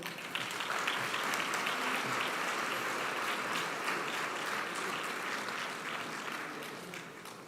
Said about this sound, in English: All right, another round of applause for Sylvie.